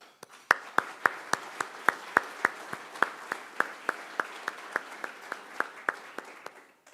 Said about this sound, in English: So please, a round of applause and thank you.